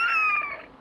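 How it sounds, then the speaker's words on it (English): A bald eagle gives a single high, thin, descending cry outdoors, clear and fairly close, with no talking over it. "I can hear the bald eagles."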